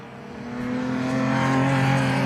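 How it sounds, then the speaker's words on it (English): A Ford Escort XR2 race car at the BRSCC Anglesey circuit, its engine note building steadily and growing louder as it approaches, a sustained buzzing drone with no talk. "There goes John Edwards Parton and his rather rapid and loud Ford Escort XR2"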